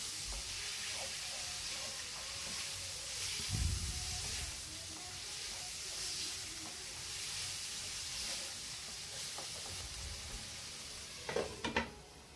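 Chicken sizzles gently in a pan of oil and butter on a home stove, a steady soft fry with occasional stirring clatter and utensil knocks, fairly quiet and without talk.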